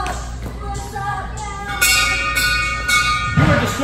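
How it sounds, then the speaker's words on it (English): Several bright bell rings repeat at roughly half-second intervals, each chiming with a lingering metallic tone, close by, with faint background noise. "You are destroying the sound with the bell."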